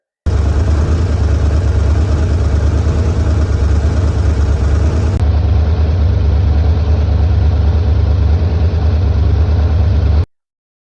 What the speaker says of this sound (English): with the engine running on the test stand.